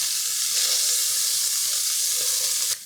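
Beef browning in a Dutch oven for Mexican beef soup gives a steady, loud, close sizzle that holds throughout, then drops off abruptly near the end.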